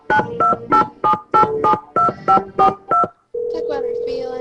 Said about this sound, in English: Okay, let's talk on the phone.